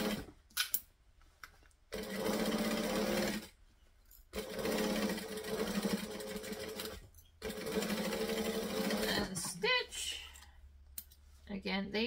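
Several steady runs of a home sewing machine restitching a loose seam, each burst a few seconds long, separated by short pauses and clicks, close to the microphone, with a voice speaking faintly at times.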